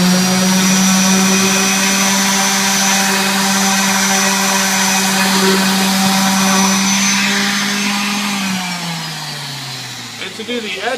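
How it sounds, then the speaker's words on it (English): A power sander with 150-grit paper runs steadily over a wooden cutting board, a loud continuous droning whine close by that drops in pitch near the end as it slows, with no talk over it. "we'll sand the top and bottom completely with the 150 just like before"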